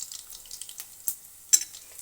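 Perugu pachadi ingredients fry in a pan, a faint hiss broken by a few sharp crackles and stirring clicks, with no voices.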